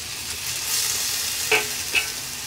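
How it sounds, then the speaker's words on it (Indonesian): Food stir-frying in sesame oil in a pan for chicken feet, a steady bright sizzle with two short louder clatters of stirring near the end, no voices. "secukupnya minyak wijennya. Tumis."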